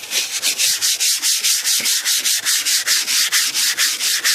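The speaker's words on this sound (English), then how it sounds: "You just want to sand the paint so it be slick like this" Hand sanding paint on a 1988 Cadillac DeVille: quick, steady back-and-forth rasping strokes of sandpaper, about four or five per second, close and even in loudness, with no voices.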